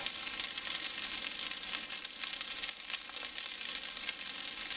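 Rice going into a hot pan and frying, a steady dense sizzle with crackling throughout, close and fairly loud, no voices.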